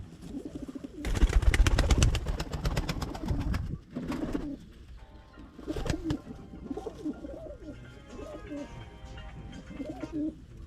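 Pigeons in a hidden backyard coop in Ankara coo and call in bursts, with a loud flurry of rapid wingbeats early on, followed by softer, intermittent cooing close by.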